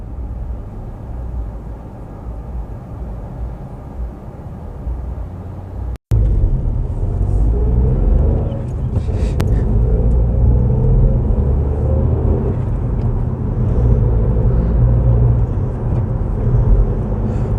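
Road traffic near roadworks on the Birmingham New Road, a steady low rumble of engines and tyres that continues throughout, with a brief cut near the start and no speech.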